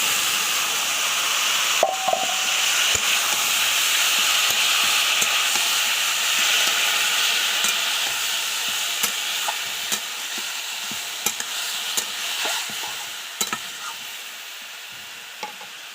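Peanuts fry in hot oil with a cumin and chili tempering and chopped mango for a peanut chutney, giving a steady, close, bright sizzle broken by scattered clicks of stirring.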